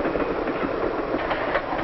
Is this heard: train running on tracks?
yes